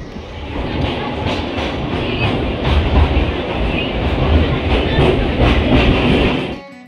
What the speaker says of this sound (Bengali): কখন যে ট্রেন চলে এসছে তা আমি খেয়াল করিনি